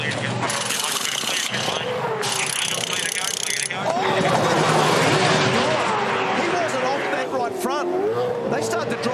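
Supercars Championship race car pulling away from the pit lane, engine noise rising loud and close, then carrying on as a steady roar with people talking over it.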